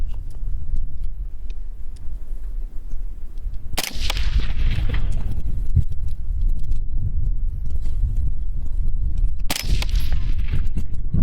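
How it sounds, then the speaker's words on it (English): An AR-15 rifle fired outdoors: two loud, sharp shots about six seconds apart, each ringing out with a decaying echo over steady wind rumble. "I'll shoot 3 rounds."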